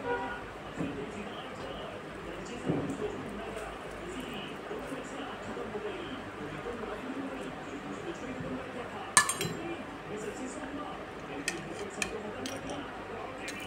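Utensils stir a lemon-dressed salad with fresh coriander in a bowl, giving scattered light clinks against the dish, one sharper clink standing out near the middle, over a soft steady background with faint voice.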